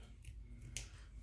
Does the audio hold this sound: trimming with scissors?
yes